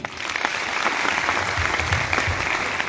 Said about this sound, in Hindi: एक बार अपने लिए जोरदार तालियां